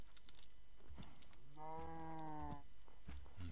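A cow in the video game Minecraft gives a single drawn-out moo, clear and fairly close, amid scattered game clicks and footsteps.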